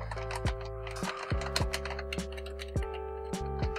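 Optical-switch keys on an A4Tech B418 Bloody keyboard are pressed one at a time, producing sparse clicky taps over a steady electrical hum, close and fairly quiet.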